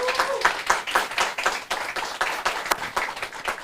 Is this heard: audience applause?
yes